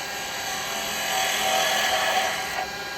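Carbide cutter taking a light planing cut on wood spinning on a lathe, a steady close hiss and whir with the lathe motor's hum underneath, swelling slightly midway, with no talking.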